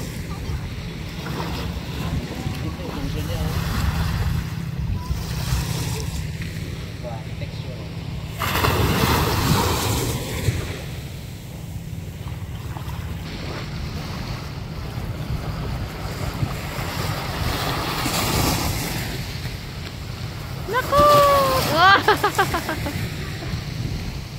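Large ocean waves wash and surge around a boat at sea, with steady wind buffeting the microphone and swells rising in loudness; a brief whistling tone appears near the end.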